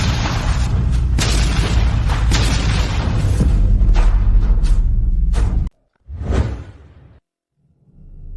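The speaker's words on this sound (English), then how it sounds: "the gunpowder explosion seriously injured Prince Ethan" A gunpowder explosion in a period drama: a loud, sustained roaring blast that cuts off abruptly, followed by a shorter whooshing burst and quiet.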